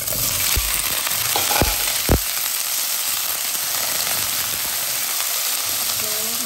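Beef sizzles in hot oil with garlic, a steady dense crackle with a few sharp utensil knocks and stirring scrapes near the start, close up and without talk.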